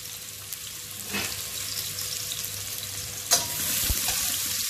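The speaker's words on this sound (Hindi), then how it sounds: "घी जब गर्म हो जाए तब मैंने उसके अंदर ये अनियन डाल देना है" Onions frying in hot ghee for a raisin beef pulao, a steady close sizzle with a couple of brief stirring scrapes and clinks, no voices.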